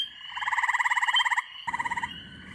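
Eastern gray tree frog giving two loud musical trills, rapid pulsed notes in a long burst then a shorter one, close and clear over a quiet background.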